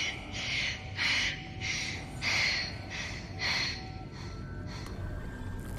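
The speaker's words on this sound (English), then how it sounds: "It's a lot of heavy breathing." Heavy, rhythmic breathing from a character in the game Guild Wars 2, about six loud breathy bursts roughly half a second apart over a steady low game ambience, with no talk.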